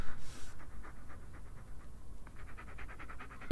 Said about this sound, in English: My beautiful doggo. I hear you.